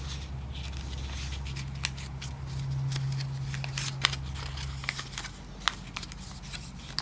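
Paper being folded and creased for a craft project, with soft crinkling and scraping rustles and a few sharper crisp snaps, close by over a low steady hum.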